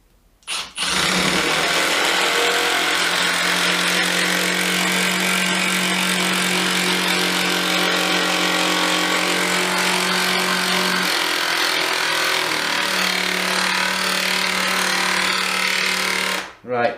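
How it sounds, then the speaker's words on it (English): A hydraulic impact driver, Makita or Milwaukee, drives a screw into wood with a loud, steady whirring hum that holds continuously for about fifteen seconds, shifting pitch briefly partway through before stopping. "these hydraulic drives, they start the screws off far better"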